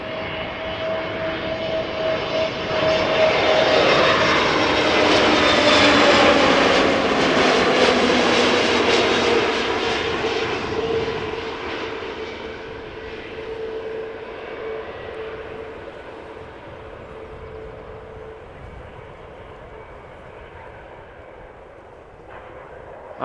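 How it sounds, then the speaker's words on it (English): An Airbus A320neo jet at Amsterdam Schiphol roars loudly past, its engine tone swelling and gliding downward as it goes by, then fading into a long steady rumble. "A320 Neo time over here."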